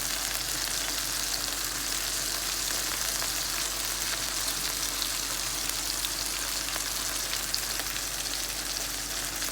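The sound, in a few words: boneless chicken breast pan searing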